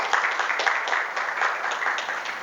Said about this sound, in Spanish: Y le damos un fuerte aplauso al Señor.